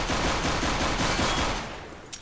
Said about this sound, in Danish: Så endelig der, hvor man kan skyde med MP.